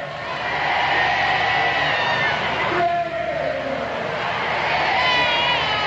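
Steady murmur of a baseball stadium crowd of over 7,000 at a Winnipeg Goldeyes vs. Lincoln Saltdogs game, a continuous broad wash of voices with a play-by-play announcer talking over it.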